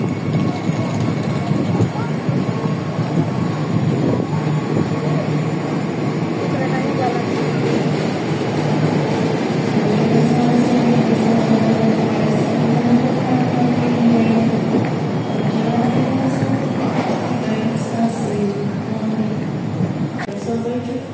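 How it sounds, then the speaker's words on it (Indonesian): A KRL commuter train pulls away from Klaten station in Indonesia, making a steady low rumble and mechanical clatter that runs throughout, with faint voices mixed in. "Ada KRL berangkat."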